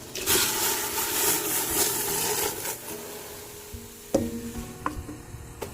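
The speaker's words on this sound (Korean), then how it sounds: "나무 주걱으로잘 저어주면 됩니다" A wooden spatula stirs soy milk heating in a pot for homemade tofu, giving steady scraping and sloshing strokes, loudest early on, then sparser knocks and clinks against the pot near the end.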